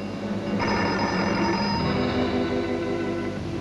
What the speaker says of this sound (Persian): ناگهان زنگ تلفن به صدا رفت